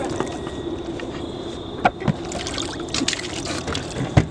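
Water sloshing and splashing in an apple-dunking tub, with irregular spills and drips over a murky background, moderately close and loud.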